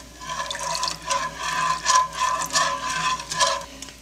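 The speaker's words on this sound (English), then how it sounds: "Add a little bit more water." Water is poured into a cooking pot seasoned with savory, cayenne and onion powder, making a steady, close splashing and trickling stream that swells and eases over several seconds.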